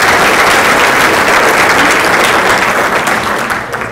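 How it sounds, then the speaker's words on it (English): Loud, sustained clapping fills a banquet hall as an audience at a softball awards dinner applauds, tapering off slightly toward the end. "we want to give each of our participating teams a round of applause"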